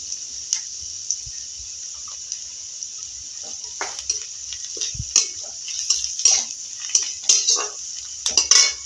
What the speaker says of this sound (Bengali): দেখতে পাচ্ছেন বন্ধুরা, পেঁয়াজটা ভাজা হয়ে গেছে